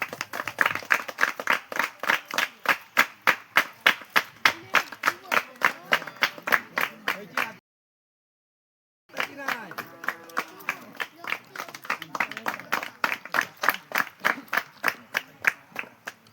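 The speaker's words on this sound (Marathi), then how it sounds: "टाळ्या वाजवा टाळ्यांच्या सगळ्यात स्वागत करा" An audience at a cricket club's underarm tournament event claps steadily and rhythmically to welcome senior citizens, sustained applause breaking off briefly before resuming.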